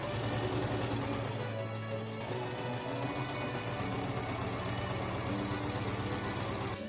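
A sewing machine stitches fabric cuff pieces for a Regency spencer, a steady loud mechanical whirr with fast rhythmic needle pulses running without pause throughout, close up and alone.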